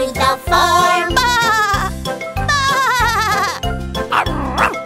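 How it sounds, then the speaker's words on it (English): A cartoon sheep on a tractor bleats in a rhythmic children's song, with repeated sung 'baa' notes over a steady bouncy bass and plinking accompaniment, loud and up front. "The sheep on the tractor goes ba-ba-ba, ba-ba-ba, ba-ba-ba."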